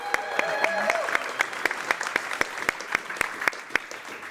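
Audience applause at a Logitech gaming event fireside chat, steady clapping from a crowd with sharp individual claps standing out, faint voices underneath.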